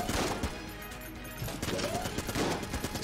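A boss in the video game Enter the Gungeon sprays rapid volleys of bullets, dense overlapping gunfire bursts and impacts at modest volume throughout.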